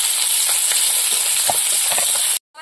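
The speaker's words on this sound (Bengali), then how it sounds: "পেঁয়াজটা একটু লাল করে ভেজে নেব" Chopped onion frying in hot oil in a home kitchen for a curry: a loud, steady sizzle and hiss with faint stirring clicks, cutting off abruptly near the end.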